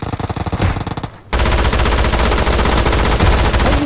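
Automatic gunfire in the mobile game PUBG Mobile rattles in loud, rapid, sustained bursts, a brief gap and then a denser continuous volley, with no voices.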